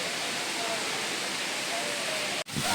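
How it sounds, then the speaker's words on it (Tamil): A large waterfall at Kolli Hills roars as a broad, steady rush of falling water, close and constant, cut by a brief dropout near the end. "அருவியும் நல்லா செம்ம பெருசாக தான் இருக்குது"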